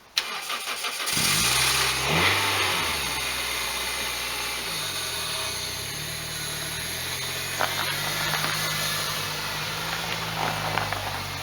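A Toyota Celica engine cranks and catches after a moment of quiet, revs up briefly, then settles into a steady, close idle that continues to the end.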